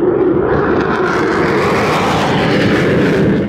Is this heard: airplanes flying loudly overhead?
yes